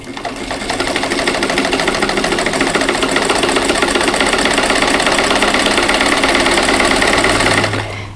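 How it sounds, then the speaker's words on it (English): Sewing machine stitching a quilt square onto a rectangle along a drawn line, a loud, steady, fast mechanical whir running for about seven seconds alone before it stops. "I'm going to sew directly on this drawn line"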